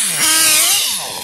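A Kyosho RC car's nitro engine, running too rich, gives a brief, loud, raspy buzz that rises and dips in pitch over about a second.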